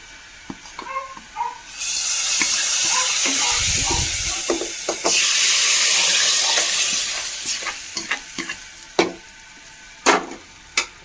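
Hot fried onion and spice tempering hits a vegetable curry with a loud, hissing sizzle that lasts several seconds and then dies away, followed by scattered clinks of stirring.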